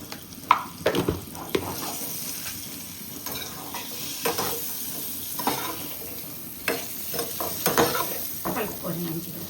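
Chilli powder being stirred into a sizzling frying mixture in a pan, with intermittent scraping stirs over a steady sizzle, close and moderately quiet, with some talk.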